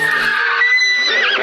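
A horse in a movie scene gives a short, high neigh that rises and wavers into a shaky whinny at the end, loud and close, heard alone.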